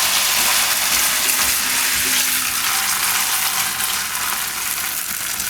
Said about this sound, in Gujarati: તેલમાં ફ્રાય કરી લેવું